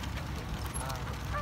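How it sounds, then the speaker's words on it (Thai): Ducks quack and honk in short, scattered calls at moderate distance over a steady outdoor background, with faint voices around. "you see some duck"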